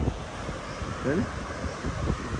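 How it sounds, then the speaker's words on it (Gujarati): Cold wind at a beach in Daman buffets the microphone in a steady, rough rush, with a faint voice briefly underneath. "અત્યારે તડકામાં પવન ઠંડો છે"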